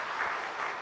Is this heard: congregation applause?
yes